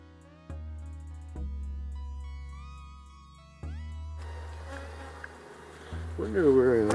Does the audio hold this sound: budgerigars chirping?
no